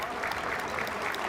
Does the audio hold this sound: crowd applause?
yes